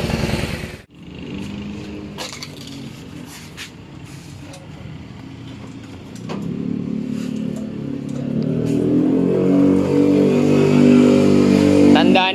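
A non-stock Bajaj motorcycle with a 56 mm regrind cam and a 28 mm carb runs close by, its engine building from a steady idle to a louder, fuller revving drone over the final seconds, with no talk over it.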